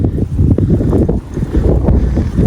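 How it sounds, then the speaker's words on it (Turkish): Strong wind buffets the microphone in a steady, heavy low rumble with gusty surges, no voices present. "Hava da aşırı soğuk, rüzgarlı."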